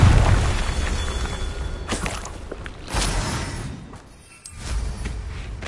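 Confringo fire spell explosions in Hogwarts Legacy give heavy booms, a strong low burst at the start followed by several more blasts and whooshes, close and loud, with no talk.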